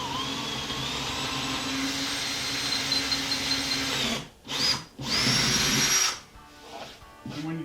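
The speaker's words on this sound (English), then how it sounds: "So we'll drill a hole near one of the corners." A power drill runs loud and close, boring a hole into a wall near a corner for a cabinet install, stopping and restarting a few times, its whine shifting pitch as it cuts.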